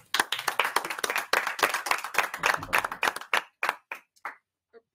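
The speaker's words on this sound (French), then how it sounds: "sous vos applaudissements" Audience claps to welcome two magicians onto the stage, starting as fairly dense clapping, then thinning into a few scattered, separate claps that die out.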